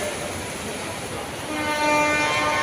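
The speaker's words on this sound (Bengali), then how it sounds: "দিল্লির লোকাল ট্রেন ঢুকছে" A Delhi local train pulls into a station platform during heavy rain, its rumble growing louder over the rain hiss, with sustained horn tones sounding in the second half.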